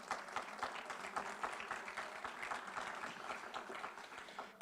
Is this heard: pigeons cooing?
no